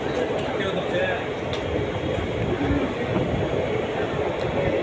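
Passenger train pulling into Tiruppur Junction, a continuous rumble of wheels and carriages with faint clicks and squeaks, heard at close range from on board, with people talking underneath.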